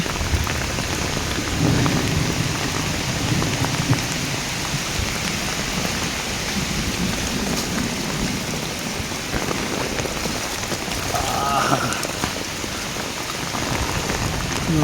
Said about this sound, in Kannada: ಆ ಪತ್ತಿ ಹೊಡೆದೈತೆ ಮಳೆ